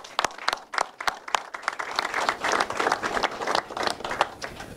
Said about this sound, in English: So a big round of applause for what they did during the storm.